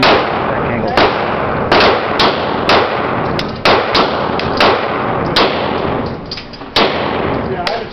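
A Glock 19 Gen 6 pistol fires a magazine at a target, a rapid irregular string of about a dozen sharp, loud, close shots with short gaps, over a constant noisy background.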